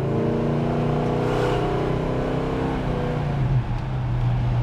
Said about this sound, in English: Car has nice acceleration.